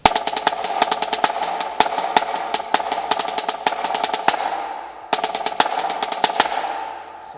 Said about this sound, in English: you have alternating 5-stroke rolls essentially when you go from your right hand, you start on your right